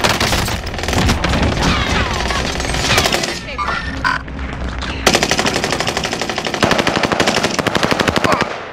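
Rapid machine-gun fire rattles through a military shooter video game in long, dense bursts, broken by a brief lull and then a sharply rhythmic stream of closely spaced shots, loud and close.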